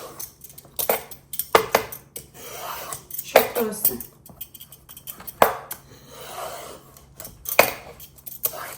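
A small bottle gourd is scraped and peeled by hand in a home kitchen, with irregular close scraping strokes and occasional sharp clinks of metal utensil against dish.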